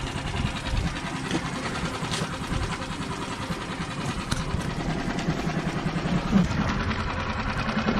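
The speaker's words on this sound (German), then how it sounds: "Der Motor ging übrigens mega smooth an. Einmal gezogen, sofort am Schnurren." Outboard motor on a boat after an ocean crossing, running at a steady idle right after a single pull start, a faint, even mechanical purr with no talking over it.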